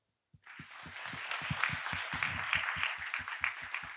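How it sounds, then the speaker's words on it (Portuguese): An audience at a lecture at an AdCombo affiliate-marketing event breaks into applause, sharp claps falling into a steady, regular rhythm over a bed of dense crowd clapping that swells and holds. "uma salva de palmas"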